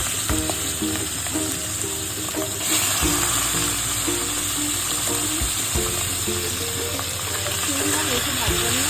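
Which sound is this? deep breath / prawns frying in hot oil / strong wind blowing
prawns frying in hot oil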